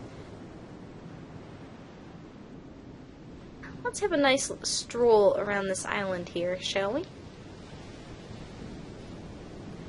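Steady broadband wash of water surrounding an island in Myst III: Exile, a soft continuous surf-like hiss running throughout, with someone talking over it midway.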